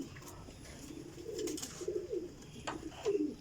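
A golden teddy pigeon, kept in a cage, coos several times in soft, rolling, low bursts, growing slightly louder toward the end, heard close and without speech.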